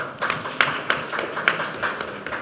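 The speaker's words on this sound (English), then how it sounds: "that deserves a huge round of applause" A small crowd at a panel discussion claps at a distance, light and scattered, with a few sharper claps standing out over a soft murmur.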